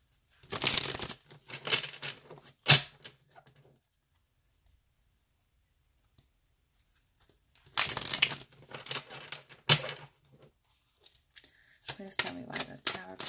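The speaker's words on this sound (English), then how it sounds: "let's shuffle and clarify your cards" Tarot cards are shuffled in quick papery riffling bursts with sharp snaps, separated by a long silent pause, close and fairly soft.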